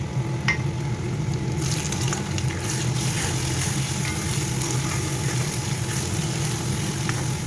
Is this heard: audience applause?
no